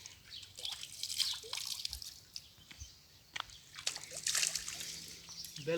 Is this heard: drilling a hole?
no